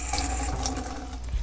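Tap water runs steadily into a container, a continuous close splashing flow with no talking over it.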